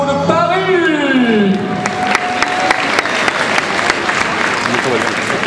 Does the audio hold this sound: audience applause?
yes